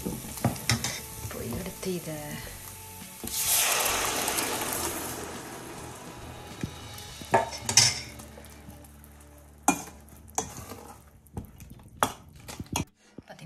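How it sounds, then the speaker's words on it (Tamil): Tomato thokku with chilli powder sizzles in a pan while a spoon scrapes and stirs, with a loud burst of frying early on and sharp clinks of metal against the pan later; a brief voice is heard. "கொஞ்சம் மிளகாத்தூள் போட்டு வதக்கிட்டுருக்கேன்"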